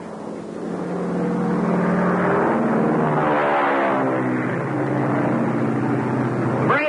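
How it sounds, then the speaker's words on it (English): A 1930s propeller airplane drones steadily and loudly overhead, its engine note rising and falling slightly as it passes, with no talk over it. "Sounds like one of our airplanes."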